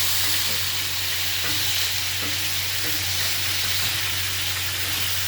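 Bottle gourd stirred with a spice mix in a hot pan, making a dense, continuous loud sizzle and hiss with faint scraping strokes underneath, close and steady throughout with no voices.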